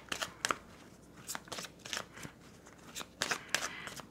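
Tarot cards shuffled and laid down in a series of quiet, crisp riffling and flicking bursts, clustered irregularly with short pauses between, close and faint with no talk.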